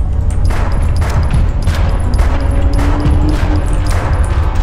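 Rapid, repeated gunfire bursts in the realistic horror game Deppart Prototype, loud and dense over a constant low rumble, with several sharp shots clustered close together.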